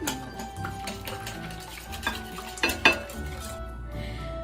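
A utensil stirs and scrapes through frittata ingredients with paprika in a bowl, giving repeated soft clinks and scrapes and a few sharper knocks, close and alone, with faint sizzling underneath.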